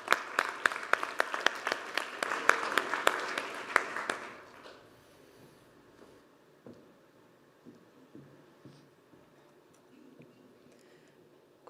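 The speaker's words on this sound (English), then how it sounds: "Warm round of applause." Conference audience at EU Ocean Days applauding a speaker, a loud burst of clapping with sharp individual claps that fades out after about four seconds into a quiet room with faint scattered sounds.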